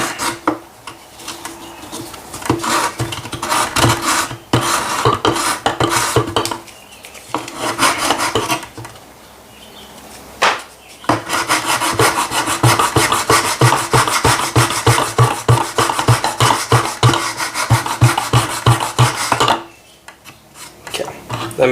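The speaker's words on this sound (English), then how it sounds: "Okay, so I've just did a bit of sanding, as you guys can see here." Sanding of wooden planking on an HMS Endeavour ship model, a loud close rasping scrub in fast rhythmic strokes, pausing briefly twice before resuming.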